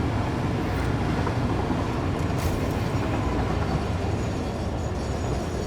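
A freight train rolls steadily along the track in the video game Satisfactory, a continuous close rumble with a dense low hiss that holds an even level throughout, no voices heard.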